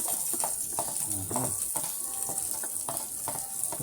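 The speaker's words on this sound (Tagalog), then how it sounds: "Ngayon, igigisa na natin yung sibuyas at saka bawang sa ating lutong ulam ngayong umaga." Onion and garlic sizzle steadily in hot oil in a pan while being sautéed, with a constant close frying hiss and occasional stirring clinks; a voice speaks briefly over it.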